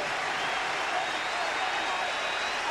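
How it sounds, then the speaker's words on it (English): A basketball arena crowd applauds at a 2006 NCAA Sweet 16 game as Duke's Redick leaves the court, a dense, steady roar of clapping and crowd noise heard from a distance. "Redick goes out to a deserved applause and a hug from Coach K"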